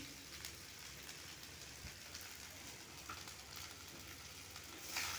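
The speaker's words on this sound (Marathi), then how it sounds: "पूर्ण आपल्या भाज्या त्या भाताला लागल्या पाहिजे या पद्धतीने आपल्याला छान असं परतून घ्यायचं आहे।" Schezwan rice with mixed vegetables stir-fried in a pan, giving a steady, soft sizzle with faint scraping of stirring throughout and no talk.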